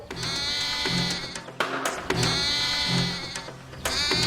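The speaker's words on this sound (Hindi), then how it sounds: "लगता है कोई बकरी फंस गई है" A cartoon goat bleats loudly and repeatedly, each long nasal cry close and continuous, with short breaks between calls and no speech.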